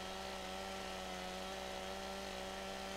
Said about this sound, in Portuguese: Caramba, motosserra insana, velho.